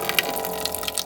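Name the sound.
running water from a tap for hand washing in an RV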